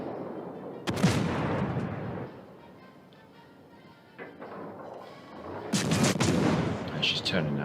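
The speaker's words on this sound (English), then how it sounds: "Blind firing now." Naval guns firing in World of Warships Legends from the cruiser HMS Leander, with heavy booming salvos at the start and again near the end, a quieter rumbling stretch between and a voice talking over it.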